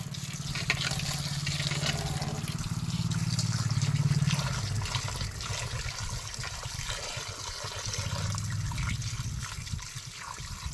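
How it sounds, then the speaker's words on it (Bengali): Water runs steadily from a tap while freshly cut food is rinsed in a sink, splashing and trickling continuously at close range with no talking. "কাটাটা শেষ করেছে, এবার ধোয়াধুয়ি চলছে"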